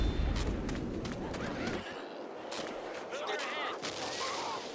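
Bursts of rapid gunfire crackle and pop amid a dense, noisy Left 4 Dead 2 game soundscape, with a loud opening volley and scattered shots after.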